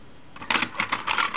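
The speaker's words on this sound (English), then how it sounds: "Sorry about the noise, the toolbox is right behind the camera." Clattering and knocking of tools being rummaged through in a toolbox close by, a short run of several quick metallic and plastic knocks over about a second.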